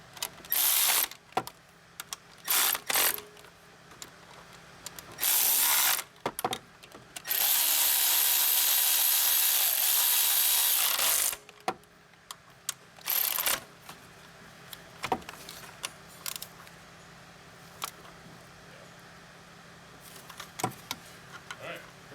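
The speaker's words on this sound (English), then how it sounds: "now we're gonna tighten the thermostat housing bolts" Ratchet tightening the thermostat housing bolts on a 2013 Chevy Cruze 1.8L engine: bursts of clicking ratchet and tool clatter, one longer continuous whir in the middle, with scattered metallic taps and quiet handling.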